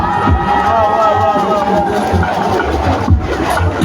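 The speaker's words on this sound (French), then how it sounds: "Merci de faire le maximum d'applaudissements pour le lycée Alexandre Zomor" A large outdoor crowd applauds and cheers for the Lycée Alexandre Zomor at a presidential address in Makokou, a loud continuous roar of clapping and voices with a sustained tone running through it.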